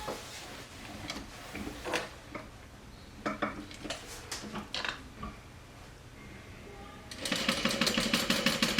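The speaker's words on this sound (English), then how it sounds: "right now, I'm gonna sew around the marking that I made" A sewing machine stitches around the marked outline of a welt pocket, starting with scattered light clicks and fabric handling, then breaking into a fast, even run of rapid stitching near the end; fairly quiet and close.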